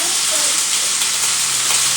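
Bacon sizzles and crackles steadily in a frying pan, a close, continuous bright hiss for the whole moment.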